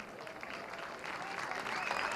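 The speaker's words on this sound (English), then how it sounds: "Michael Hendrickson coming off to the mound to a large ovation from a near sellout Ray Fisher Stadium crowd" A near-sellout baseball crowd at Ray Fisher Stadium in a Michigan vs Ohio State game gives a sustained ovation of applause and cheering that swells steadily, under a broadcaster's voice.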